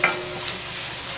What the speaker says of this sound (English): You want to keep stirring right at the beginning.